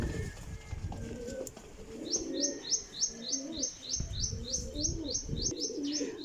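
Pigeons flutter and coo in flight amid a busy background, with a rapid series of bright whistling chirps repeating steadily through the second half.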